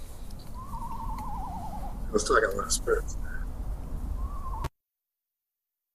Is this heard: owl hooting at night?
yes